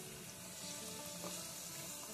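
Raisins sizzle steadily in hot ghee, a close, continuous frying crackle with fine popping spread evenly throughout.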